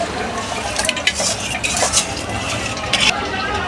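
Soaked rice tips into a cooking pot for a party dish of white rice, giving a gritty, steady rustling pour with metallic clinks and scrapes against the pot, close and moderately loud.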